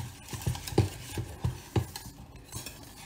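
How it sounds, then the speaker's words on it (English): A utensil stirring a lemon mixture in a bowl, producing a run of rhythmic clinks and soft knocks about three per second, close and fairly quiet. "We're gonna stir it all together."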